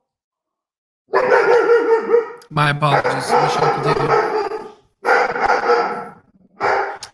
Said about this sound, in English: Sorry, guys, my little doggy here.